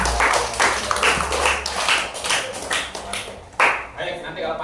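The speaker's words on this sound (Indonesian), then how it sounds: "Oke, tepuk tangan di sana." Schoolchildren clap their hands in a classroom, with a run of uneven, overlapping claps at close range mixed with children's voices and chatter throughout.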